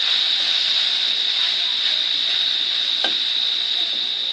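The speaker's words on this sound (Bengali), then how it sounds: "যাতে সব সবজি ভালো করে ভাজা হয়।" Mixed vegetables stir-frying in a pan for street-style chicken chowmein give a steady, close hiss with one brief scrape of stirring partway through, heard alone without talk.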